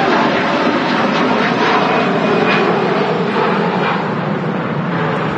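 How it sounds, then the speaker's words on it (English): Virgin Airbus A330 airliner taking off at Manchester Airport, a loud, steady roar of jet engines that holds constant, broad and powerful throughout. "Virgin 330. The takeoff behind."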